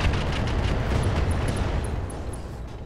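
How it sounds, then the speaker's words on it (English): In the mech combat video game Roguetech, a volley of missiles explodes against a mech's leg as a dense, loud, continuous rumble of blasts that eases slightly toward the end, without talk. "That's a lot of missiles on that leg."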